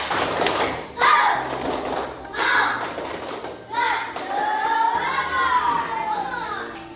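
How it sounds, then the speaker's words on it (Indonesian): Primary school pupils in a classroom chant in rhythm while clapping along, a loud, close group sound that rises and falls in short bursts. "baik, tepuk semangat."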